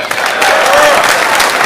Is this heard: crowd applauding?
yes